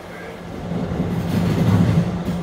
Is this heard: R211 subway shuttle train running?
yes